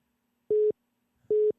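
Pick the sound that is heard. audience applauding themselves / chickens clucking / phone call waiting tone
phone call waiting tone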